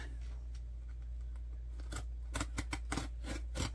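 A dull knife blade cuts through packing tape to open a mailed package, producing a run of sharp, close scraping and ripping strokes that start sparse and come quicker and louder toward the end over a low steady hum.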